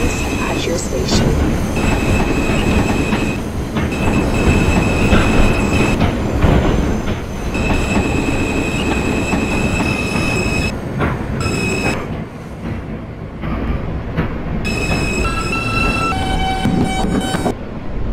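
Brooklyn-bound M local subway train running on the Myrtle Avenue Line in Roblox, a loud continuous rumble with rail clatter and squealing wheel tones throughout.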